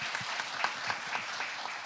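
An audience at a spring tech conference talk show applauds a panelist, a dense, steady patter of many hands clapping at moderate distance.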